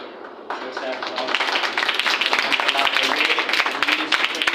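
An audience breaks into sustained clapping for a speaker, starting abruptly after a moment and holding as a dense, even patter of many hands close by.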